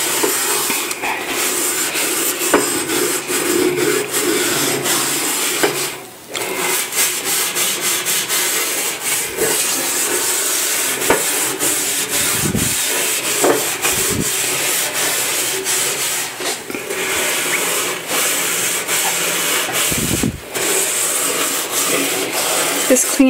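Someone scrubs burnt-on food from an oven or grill surface with Norwex oven cleaner, producing continuous close, loud rough rubbing strokes with brief pauses.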